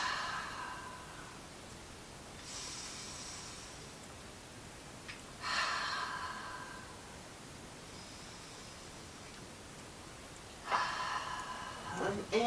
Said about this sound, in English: Deep Ujjayi breathing.